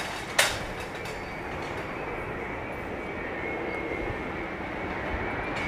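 An airliner arrives in gusty wind at Heathrow Airport, a loud, steady engine roar and wind rush that holds for several seconds after a sharp brief thump near the start, with no talk.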